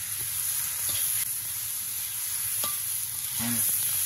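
Turmeric, salt and cumin sizzle in hot oil in a pan for a Bengali koi and jeol fish curry, a steady close crackling fry broken by a few scraping stirs.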